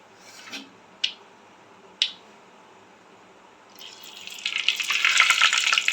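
Mustard seeds dropped into hot sesame oil, a few sharp snaps early on, then a growing, crackling spluttering sizzle that builds and fills the last seconds, close by with no talking.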